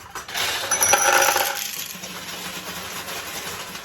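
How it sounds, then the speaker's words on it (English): Steel balls tumbling and rattling down inside a 1966 Nishijin Model A single-shot pachinko machine to refill the jackpot, a bright metallic cascade of clinks that swells for about a second and then thins out to faint jingling. "that noise you just heard is more balls coming from the top into the middle to replenish the jackpot"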